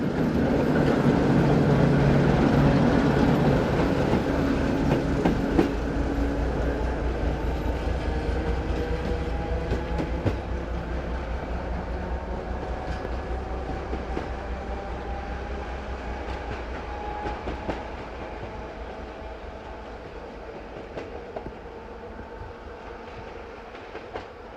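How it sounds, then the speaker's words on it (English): Polish locomotive 620024 heads south along a double track line east of Świetlany near a colliery, a loud, heavy rumble with rhythmic wheel clatter that slowly fades into the distance. "locomotive number 620024 heads south along the double track line east of Świetlany"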